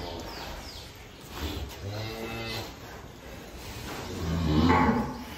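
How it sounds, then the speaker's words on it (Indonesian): Cattle at ADR Farm in Tegal, large sacrificial cows kept for Qurbani, give a few low moos at moderate distance amid steady farm background noise, with faint birds chirping. "2 sapi monster guys dari ADR Farm"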